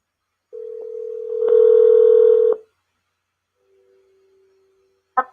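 A telephone dial tone plays steadily, then a burst of louder dialing tones for about a second, followed by a faint lower tone and a brief final chirp; no one speaks.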